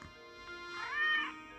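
An angry cat meows once in Professor Layton and the Curious Village, a short, rising and falling whining cry heard close over quiet background music.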